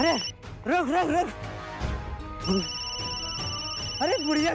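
A telephone rings with a repeating warbling electronic tone, loud and close, alongside sustained background music tones.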